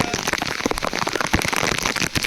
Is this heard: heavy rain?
yes